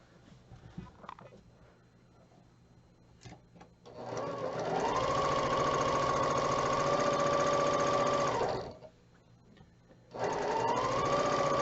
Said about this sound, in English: So I'm going to sew corner to corner.